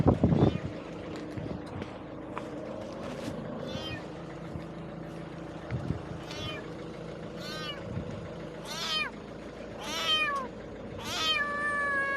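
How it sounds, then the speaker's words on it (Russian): A wet kitten cries over and over from the bushes in high, wavering mews, spaced every second or two, against a steady low rumble of wind and distant engine noise. "Я услышал плач котенка."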